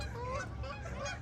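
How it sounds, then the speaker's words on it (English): Geese honking loudly and continuously near a lake at Veterans Memorial Park in Boulder City during a catfishing outing, a dense overlapping chorus of nasal calls with no talking. "The geese are going wild."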